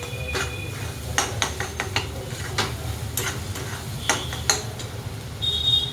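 Green chili and onion frying in plenty of oil for an ambadi leaf bhaji, a soft steady sizzle under scattered metallic clinks and scrapes of a spoon stirring the pan.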